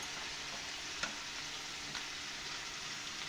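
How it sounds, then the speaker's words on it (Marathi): Green chillies and cumin sizzle in a little oil in a pan, a steady soft crackle that stays fairly quiet throughout, with a couple of faint utensil taps breaking the even hiss. "मला मिरच्या तळून घ्यायच्या थोडंसं तेल घालते"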